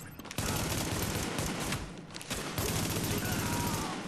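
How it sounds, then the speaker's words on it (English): Rapid gunfire in Tom Clancy's The Division, a dense, loud barrage of shots that starts after a brief pause and carries on through the whole clip, with voices mixed into the chaotic firefight. "taking heavy fire from the roof"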